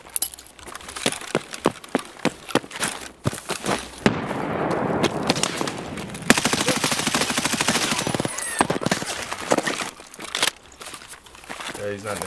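Gunfire in the Escape from Tarkov shooter, with a Colt M4A1 in play: sharp, loud shots scattered through the stretch, broken by a denser burst of crackling fire in the middle, with some soft clatter between shots.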